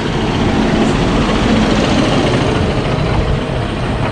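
A combine harvester drives through a wheat harvest on an old farm in Switzerland, its engine a loud, close, continuous drone and rumble with no pause and no talk.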